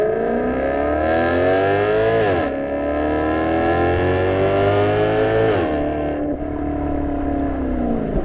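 A warmed-up car engine revs hard through climbing gears, its loud whine rising in pitch, dropping sharply at each of two shifts, then climbing again, with no talk.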